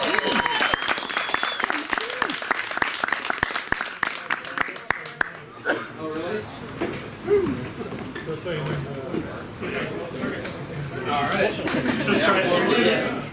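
Sharp, crisp clapping from a live audience greeting an electric band on stage, loud at first then fading within a few seconds as people talk and chatter.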